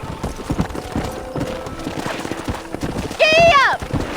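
A horse gallops in the Red Dead Redemption video game, with steady clip-clop hoofbeats running under a character's shouted voice, then a loud whinny near the end.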